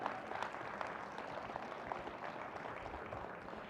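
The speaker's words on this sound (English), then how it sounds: "Let's give these entrepreneurs another round of applause," Audience applause for entrepreneurs at an agricultural innovation challenge event, a steady even wash of clapping that fills the whole stretch at moderate loudness with no talk over it.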